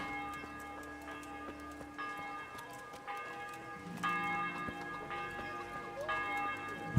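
Church bell in a game set in old Bohemia, struck about four times at roughly one-second intervals, each ring clear and ringing out with a lingering tone over faint ambient background.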